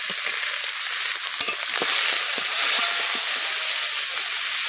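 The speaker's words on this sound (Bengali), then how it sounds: "মাছ খানিকটা দেখো ভেজে" Loud, continuous hiss of small carp fish frying in oil, with faint pops and light clicks scattered across it, no talking.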